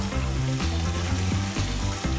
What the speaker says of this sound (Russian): вот у нас сальцо, грибочки и лучок начинают поджариваться